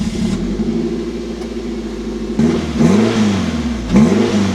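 A Toyota MR2 MK3 with a 1.8 engine and HKS exhaust back box idles, then is revved twice, each blip rising sharply and dropping back to a steady burble, loud and close with no talk.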